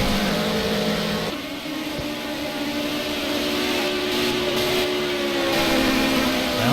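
GT3 race cars in Project CARS at Road America scream flat out through a corner, engines holding a steady high whine that shifts pitch as the cars pass and accelerate, loud and continuous with no speech.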